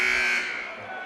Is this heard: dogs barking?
no